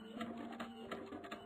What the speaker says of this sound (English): I'll just print the order details.